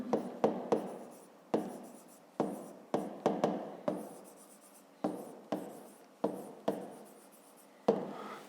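Handwriting a maths solution with a pen, a series of distinct close taps and scratchy strokes in an irregular rhythm, separated by short pauses.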